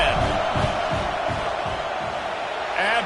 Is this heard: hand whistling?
no